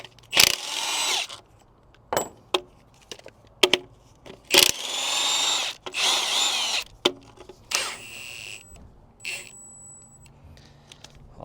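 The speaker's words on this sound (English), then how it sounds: "I'm just taking bolts off till the cover comes off." Hand tools work bolts loose from the cover of a Cat 3406B engine during a teardown: intermittent metallic clicks, scrapes and clanks in separate bursts, fairly close, with pauses of quiet between them.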